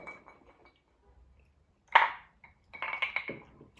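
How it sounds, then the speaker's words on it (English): A single bright clink of whiskey glasses touched together in a toast, tasting Uncle Nearest 1884, rings out once mid-clip, followed by softer handling and clatter sounds in a quiet room. "Clink them and drink them."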